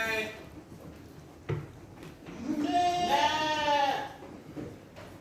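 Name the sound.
sheep bleating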